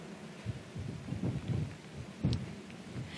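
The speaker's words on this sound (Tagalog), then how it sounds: "Actually, Vicky, talagang mas lalo pang lumalakas yung buhos ng ulan. Ganon din yung hangin" Heavy typhoon rain driven by strong wind: a loud, continuous roar with surging low gusts and buffeting that swell and fade, recorded outdoors during a live news report.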